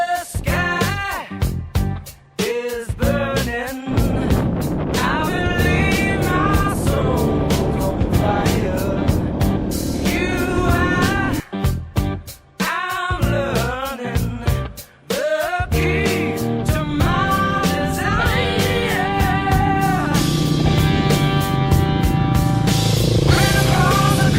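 Honda CRF230F dirt bike with a quiet, spark-arrestor exhaust, its engine running loud and steady through the whole stretch, with brief dips where the throttle is rolled off and several revving surges.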